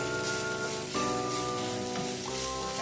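Ground turkey crackles and sizzles loudly while frying in a pan, a dense continuous hiss with tiny pops throughout and a faint tonal hum underneath.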